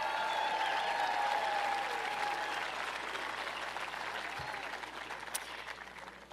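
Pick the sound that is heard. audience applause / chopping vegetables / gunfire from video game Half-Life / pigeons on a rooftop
audience applause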